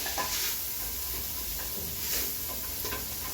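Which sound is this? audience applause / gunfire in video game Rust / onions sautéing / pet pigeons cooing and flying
onions sautéing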